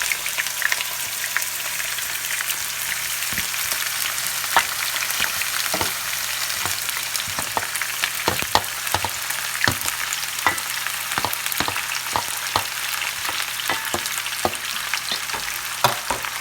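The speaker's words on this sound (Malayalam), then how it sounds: "ഇടയ്ക്കൊന്ന് നമുക്ക് നന്നായിട്ട് വെളിച്ചെണ്ണയിൽ നന്നായിട്ട് വഴറ്റണം" Sliced onions sauté in coconut oil, already flavoured with green chillies, for an Ankamaly-style dum biryani. A steady close sizzle runs throughout, with frequent quick clicks and taps of stirring over it and no voices.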